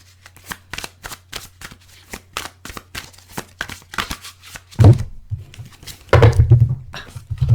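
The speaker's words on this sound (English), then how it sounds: "Cards are flying and jumping and trying to escape." Tarot cards riffle and shuffle in quick repeated bursts of snapping and flapping, close and fairly loud, followed by heavier thumping slaps as the deck is handled roughly near the end.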